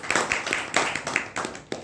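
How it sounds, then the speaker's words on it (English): Audience at a Toastmasters club meeting applauding a speaker, a short burst of irregular, overlapping hand claps from several people close by, rising and falling over about two seconds. "I wanted to give a big round of applause to Sunil"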